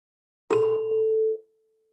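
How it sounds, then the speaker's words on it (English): A struck tuning fork gives one sharp metallic ding that settles into a steady pure ringing tone for about a second before being cut off, clear and close in a quiet room. "If you bang on a tuning fork, it starts to resonate and vibrate and create frequency"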